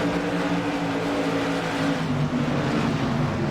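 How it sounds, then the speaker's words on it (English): Modified race cars roar together on a restart at Stafford, a dense, steady engine drone from the pack with no clear break, close and loud throughout; no distinct blown-engine sound stands apart. "Chris Johnson sounds like he blew an engine on the restart."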